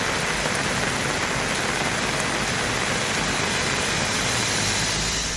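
Heavy evening rain pours down in Chennai, a dense, unbroken hiss of drops striking surfaces, loud and close with no pauses or voices.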